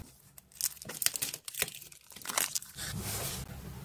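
A PDA Kobo plastic screen protector film for an LG Q Stylus phone is unpacked, giving close, loud crinkling and tearing of plastic packaging in uneven bursts, with no one talking.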